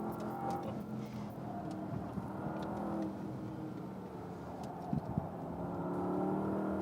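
Porsche Panamera Turbo engine pulling steadily on a racetrack, heard from inside the car as a continuous, moderately loud hum and drone with a couple of brief knocks near the end and no talk.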